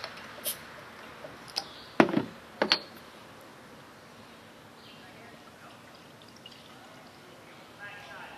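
A bottle of Founders Cerise cherry beer is cracked open and poured, with a few sharp clicks and a short hiss around the opening, then a soft trickle of liquid in a quiet room.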